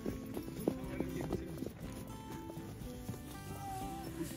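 Horses walk home along a road, their hooves clip-clopping in a steady, fairly quiet rhythm against a light background hiss.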